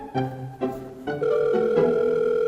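A Korean telephone voicemail beep: a few short electronic tones step in quick succession, then a single steady beep holds on, clear and close.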